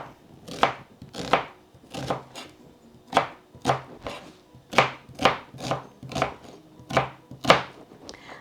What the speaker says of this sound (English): And we can just cut these into wedges.